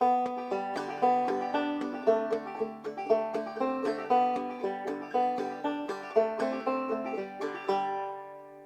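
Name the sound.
clawhammer banjo playing Skip to My Lou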